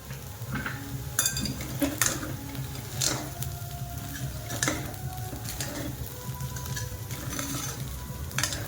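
Potatoes stir-fried in a pan for a Marathi fasting thali, with steady close sizzling and repeated clinks and scrapes of a spatula against the metal pan.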